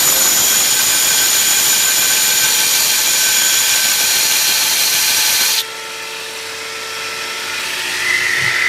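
A homemade 72 by 2 inch belt grinder sander runs with a loud, high whining hiss while grinding, then the grinding stops abruptly and a quieter motor hum continues alone.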